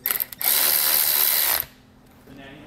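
A ratchet wrench snugs a tapered bolt on a helper spring install, giving a quick clicky burst then a steady bright ratcheting whir for about a second before stopping, with a faint clatter and quieter rasp afterward.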